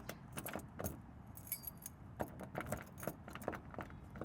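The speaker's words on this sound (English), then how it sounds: "And I got more keys than a janitor." A large bunch of keys jangles in repeated quick metallic clinks and rattles near a rental fourplex, faint and close, with no talk and a soft background hum.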